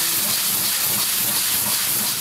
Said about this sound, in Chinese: 红豆，所以我用力洗啊，摩擦撞击以后会把那个脏的东西把它洗出来。